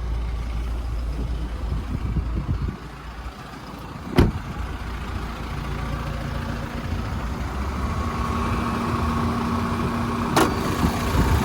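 A 2019 Toyota Prado GXL SUV engine idles steadily with the bonnet open, a low, continuous rumble broken by two sharp metallic clicks.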